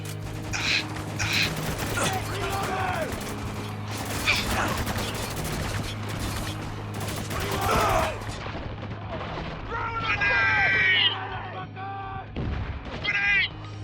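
Shotgun blasts ring out in the shooter game Spec Ops: The Line, several sharp booming shots spread through a busy battle mix with mechanical clatter between them.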